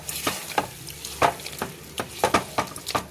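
Egg soybean biryani ingredients stirred and mixed in a pot, with rhythmic scraping strokes of a spoon and a soft sizzle between them, close and fairly loud.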